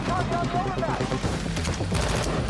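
Gunfire in a music video concept film, with a rapid volley of shots mixed under music and an excited voice talking over it.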